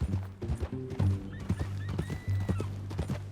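A horse in Red Dead Redemption 2: close, rhythmic clip-clop of hooves on the ground with snorts and a whinny rising over the steps, heard alone without speech.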